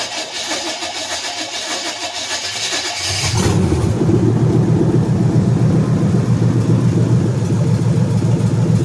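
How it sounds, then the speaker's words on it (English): A Monte Carlo's engine cranks and catches after a few seconds, then settles into a loud, rough, steady idle close by. "I don't know if I've shown this car running or not."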